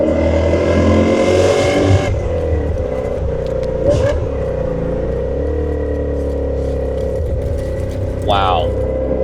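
A 2000 BMW E39 M5 engine growls in a steady, loud, close drone, its pitch shifting as it downshifts and revs, with a brief change in tone partway through.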